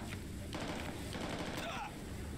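Battle gunfire in the war video game Call to Arms: a dense, continuous rumble of distant shots and bursts, with a couple of louder cracks under steady background noise.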